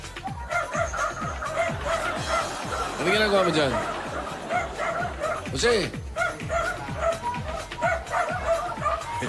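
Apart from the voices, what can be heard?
dog barking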